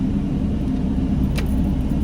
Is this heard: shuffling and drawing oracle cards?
no